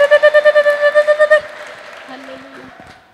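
A church congregation lets out a loud, rapid warbling ululation for about a second and a half, then it fades into softer scattered cheering and murmurs.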